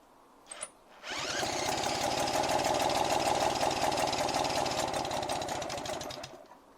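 A British Seagull outboard motor with a flooded carburettor fires after a brief click and runs for about five seconds with a rapid, rattly, uneven chug, then cuts out, and no one speaks.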